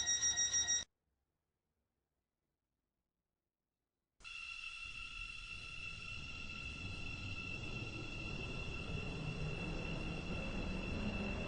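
A Stepford County Railway train runs in the Roblox game: a brief tone, a pause of silence, then a continuous running hum with steady whining tones that builds slightly as the train moves.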